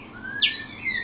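A female pichochó feeding her chicks gives a thin rising chirp followed by a sharp bright tweet and a trailing high whistle, close and clear over faint background hiss.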